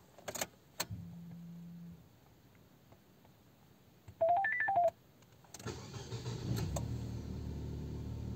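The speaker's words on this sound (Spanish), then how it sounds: "Procedo a arrancar este auto" A Nissan Tiida with a faulty throttle body that idles too high: keys rattle, a few short electronic beeps sound, then the starter cranks and the engine catches and settles into a steady, close idle.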